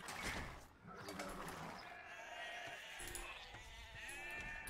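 Sheep bleat in a video game, a few wavering calls mixed with busy in-game clatter and mechanical clicks at steady moderate loudness.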